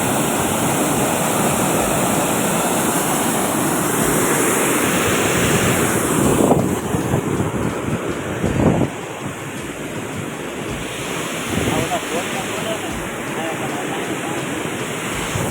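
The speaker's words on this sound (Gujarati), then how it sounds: "બે નદી ભેગી થાય છે જો કેવો ખળખળિયો બોલાશે" Water rushing and gurgling where two rivers meet at a dam, a loud, steady roar of flow close by, with wind buffeting the microphone throughout.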